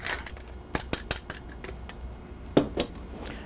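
A utensil works veal stuffing with Romano cheese and black pepper in a bowl, giving a run of sharp metallic clinks and scrapes, close and irregular, with one louder knock near the end and no voices.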